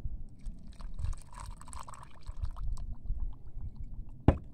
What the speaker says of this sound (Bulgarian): След това сипваме вода.